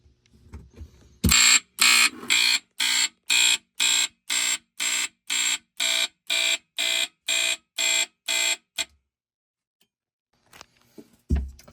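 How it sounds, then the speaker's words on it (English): Hard-wired 120-volt AC smoke alarms, driven by a fire alarm panel on march time, blare a loud, rapid train of about fifteen evenly spaced electronic beeps, then stop abruptly into silence. "120-volt AC smoke alarms on March time using my fire alarm panel."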